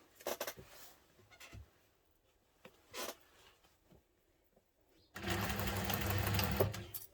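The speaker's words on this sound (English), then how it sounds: "I'm going to sew it with the seam allowance in the pattern." A sewing machine stitching a seam on an urban messenger bag, with a few soft taps and fabric handling at first, then a steady loud close mechanical whir running continuously for the last two seconds.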